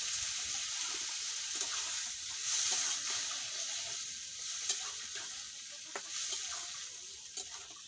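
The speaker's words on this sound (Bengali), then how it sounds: "জল দিয়ে তারপরে একটু নাড়াচাড়া করে নেবো একটু মিক্সড করে নেবো" Potato and pointed gourd fry in a pan with a splash of water, a soft continuous sizzle broken by scraping stir strokes and a few sharper clinks, fairly quiet with no voices.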